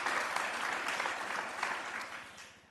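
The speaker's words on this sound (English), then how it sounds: "So one more round of applause for those 2 schools." An audience at a governing board meeting gives a round of applause honoring two schools, steady many-handed clapping that is moderately distant and fades slightly toward the end, with no speech over it.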